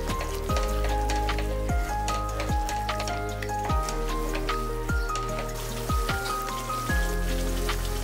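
Mutton masala and warm water sizzle and bubble steadily in a hot pan, a continuous close frying crackle broken by repeated soft spoon-stirring knocks.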